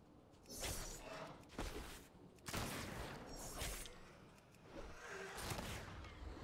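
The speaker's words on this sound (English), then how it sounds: "Fires a barrage of rockets." A barrage of rockets fires in World of Warcraft's PvP battle royale mode, producing a dense run of loud whooshing blasts and booms that rise and overlap for several seconds.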